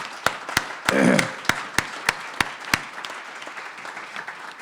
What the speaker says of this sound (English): if we could have some applause for Ed and Maureen Louie, that would be good.